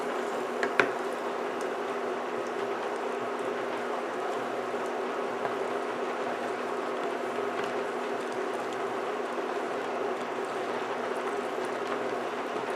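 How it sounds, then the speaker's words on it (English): Butter simmering in a pan while being stirred to cook out its water for brown butter, giving a steady, close bubbling and foaming hiss that runs evenly throughout with no talk. "it's starting to just to simmer a little bit,"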